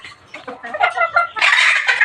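Two hens and a rooster cluck inside a cage, their calls close and fairly loud, rising into a sustained, busier squawking burst toward the end, with no voices present.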